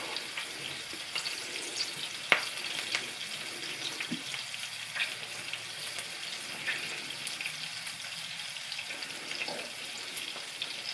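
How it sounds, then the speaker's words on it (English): Spiced Pakistani chapli beef patties sizzle in a frying pan, a steady crackling hiss with occasional sharp pops and spits, close and continuous throughout without talk. "You can hear that sizzling, that's the other one's just finishing off."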